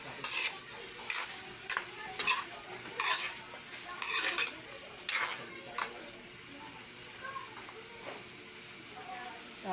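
Onions, garlic, ginger and radish sautéing in a pan, with repeated clattering stirs of a utensil against the pan over a soft sizzle, in a steady rhythm of sharp scrapes.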